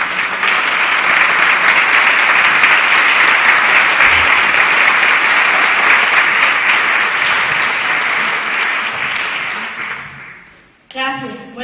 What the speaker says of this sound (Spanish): Un fuerte aplauso para Eva